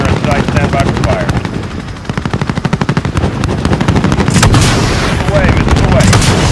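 Call of Duty Modern Warfare airstrike: rapid heavy machine-gun and cannon bursts hammer in close, loud volleys over a rumbling aircraft drone, with explosions and radio chatter mixed in.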